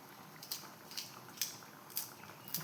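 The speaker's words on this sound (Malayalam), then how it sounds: "അപ്പോൾ ഇതാ കടലക്കറി തിളക്കുന്നുണ്ട്" Chickpea kadala curry simmering in a pot gives faint, soft plops and pops at a steady pace of about two per second over a quiet background.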